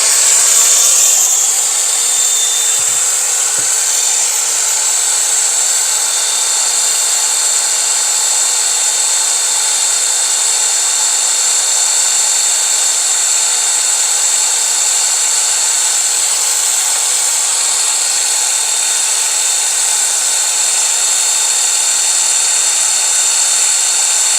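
A cordless Metabo or Makita angle grinder spins up and then runs free at full speed, a loud, steady high-pitched whine with a strong constant tone, alone and close.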